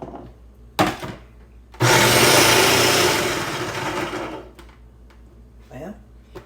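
A kitchen machine grates jicama with a loud, steady whirring and shredding burst lasting a few seconds, then fades, with a short clunk before it and quieter handling noises after.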